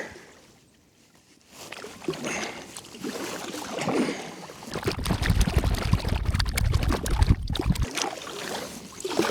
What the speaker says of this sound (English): you're going to enjoy some paddling video of me moving down the river